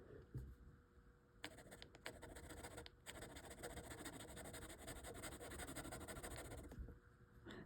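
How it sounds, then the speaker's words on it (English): A scratchy Sailor Pro Gear Slim fountain pen nib drags across paper in steady, close-up strokes, a dry rasping rub broken by brief pauses. "love the scratchy sound of this one. So this is a Sailor Pro Gear Slim"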